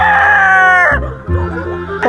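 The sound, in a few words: gamefowl rooster crowing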